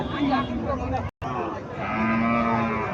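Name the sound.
cattle mooing at market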